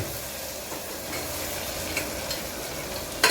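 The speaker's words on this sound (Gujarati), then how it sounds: "જો પ્રકૃતિબેને શાક વઘાર્યું." Vegetables being tempered (vaghar) hiss in a pan as a continuous dense sizzle, close and steady for a few seconds, with a sharp clatter near the end and no voices.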